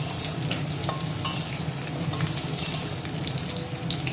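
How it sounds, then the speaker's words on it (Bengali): Potatoes frying with onion and garlic give a steady, close sizzle with light stirring scrapes, continuous throughout with no talking. "একদম পেঁয়াজ রসুন দিয়ে সুন্দর করে হবে তাই আলু ভাজা বসে গেছে দারুণ হচ্ছে কিন্তু ভাজাটা খুব সুন্দর হচ্ছে"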